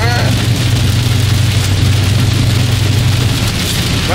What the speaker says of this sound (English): I hate when it rains, bro. My car always slide, bro.